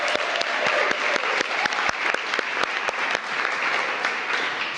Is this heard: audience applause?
yes